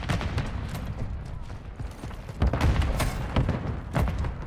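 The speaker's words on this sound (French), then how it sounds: "Non, la grenade." Grenade blast in Call of Duty MW3 multiplayer, a loud booming burst around the middle amid ongoing gunfire and thuds, with a voice talking briefly underneath.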